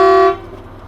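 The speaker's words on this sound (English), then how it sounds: "do you think we should honk the horn now?" A semi-truck's air horn blasts once, loud and close, as a single bright tonal toot that cuts off after a third of a second and leaves a brief rumbling tail.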